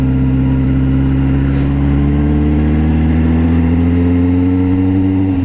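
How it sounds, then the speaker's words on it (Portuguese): A loud, steady Suzuki GSX750F motorcycle engine roars close by, its deep harmonic drone rising slightly in pitch as it revs, with no voices over it. "É o motor que berra mesmo. É imoral essa moto."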